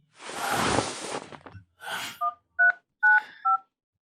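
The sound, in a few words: telephone dialing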